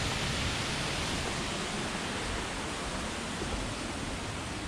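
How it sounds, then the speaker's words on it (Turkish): A small waterfall on a mountain route pours in a steady, dense broadband rush that stays even and continuous throughout, with no voices or other sounds breaking through. "Güzel bir şelale var."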